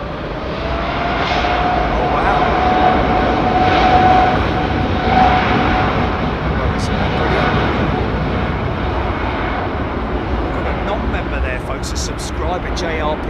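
A jet airliner doing a rolling start for takeoff at London Heathrow makes a loud, steady engine roar that builds slightly, then holds as a continuous broadband rumble.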